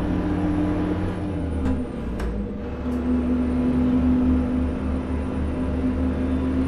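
A low engine rumble from a Renault Magnum heavy truck hauling a 22-ton container in Euro Truck Simulator 2 idles steadily, with a few short bursts of air brake hiss cutting in near the start.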